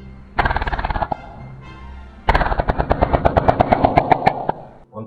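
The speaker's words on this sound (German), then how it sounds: "Ein verlangsamter Furz klingt exakt so wie der Predator." A slowed-down fart recording, pitched low so it resembles the Predator creature's sound, comes as two rapid pulsing bursts: a one-second rattle, then after a pause a longer three-second throaty stutter, loud and close with no speech.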